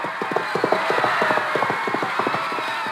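Galloping horse hoofbeats at a racetrack, the Dark Horse rounding the turn: a quick, steady rhythm of clip-clop thuds, fairly close and continuous, over a broad background hiss with no talk.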